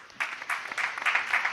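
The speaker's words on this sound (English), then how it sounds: "A round of applause." A debate audience gives a short burst of applause for the competing school teams, clapping moderately loud and somewhat distant for about a second and a half.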